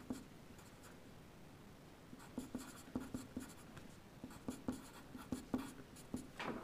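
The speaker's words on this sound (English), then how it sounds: "I'm going to write the next step on top" A pen writes on paper at close range, with faint scratchy strokes and light taps in an irregular rhythm against a quiet room hiss.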